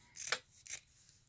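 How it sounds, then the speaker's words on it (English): Fabric scissors snip along the stitching of a towel for a hooded towel applique, two quiet close cuts with crisp slicing edges and a short gap between them. "what we're going to do is cut off this extra piece that's above the stitching, as close to the stitching as you can, while not cutting the towel behind"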